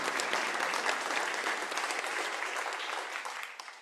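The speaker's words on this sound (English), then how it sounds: "So let's give a round of applause." Sustained audience applause at a 10-year celebration pitch competition finals, a dense steady clapping from a large crowd that holds loud throughout and tapers slightly at the end.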